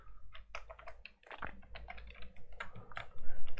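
Code is typed on a computer keyboard in quick, irregular bursts of close, crisp key clicks, with no voices.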